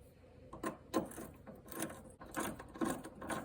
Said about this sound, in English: get that nut tightened back up, and my ratchet wrench, and snug that down a little bit